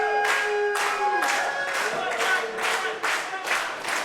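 Wrestling arena crowd in a Mike Bennett versus Bryan Keith match, a steady roar of cheering with bursts of clapping swelling in waves, while a commentator talks over it.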